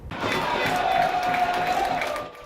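Fans in red and black cheer at a football match in the Estádio Municipal Niozinho Santos, a dense roar of many voices with a rising shout, fairly loud and steady for a couple of seconds.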